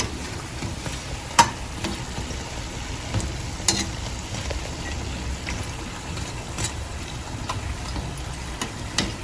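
Garelu, lentil vadas, frying in hot oil, giving a steady low bubbling sizzle with a few sharp pops and crackles, fairly quiet and continuous, with no voices.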